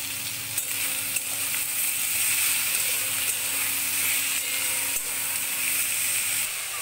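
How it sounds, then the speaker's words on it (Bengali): Broad beans fry with salt and turmeric in a pan, making a steady, dense, close sizzle that holds even throughout with a few faint scrapes and no voices. "সিমগুলিকেও বেশি ভাজার দরকার নেই, হালকা ভেজে নেব"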